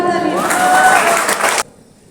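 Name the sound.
loud applause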